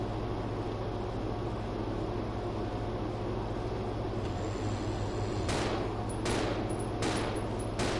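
Gunfire in the zombie survival game Resident Evil 0 HD: a steady low game ambience, then four sharp broadband shots about a second apart near the end, loud and close with no talk.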